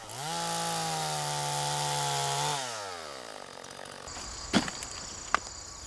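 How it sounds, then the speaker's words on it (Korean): A chainsaw engine runs steadily while roughing out wood for a wooden Buddha carving, then its pitch drops as it winds down, followed by a quieter idle with a couple of sharp knocks. "혼자 하는 작업이 잦은 현대 목조각 장인들은 전기톱을 사용해 건목 작업을 하고 있다"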